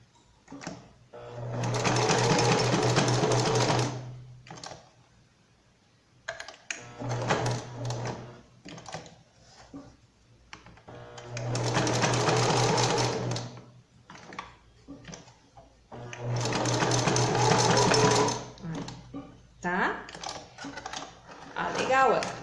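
Sewing machine stitching a fabric collar seam on a bandana, running in four loud bursts of a few seconds each with quiet gaps, handling noise, and a voice speaking between runs.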